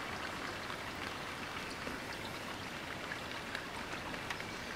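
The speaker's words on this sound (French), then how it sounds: "la pluie s'estompe. C'est la fin de l'orage" Steady rain easing off at the end of a night thunderstorm in Amboise, France, patters and drips on surfaces, a soft even hiss with scattered drops, fairly quiet and unbroken, no voices.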